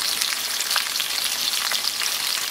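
Bamboo shoots stuffed with minced pork deep-fry in hot oil, a dense, continuous crackling sizzle with small popping bursts, close and loud throughout with no voices.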